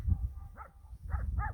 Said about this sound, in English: Lady's barking at us.